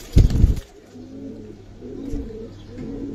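Giribaz and coloured fancy pigeons coo softly in a low, rolling rhythm after a loud fluttering burst at the start, with repeated calls close by and no talking.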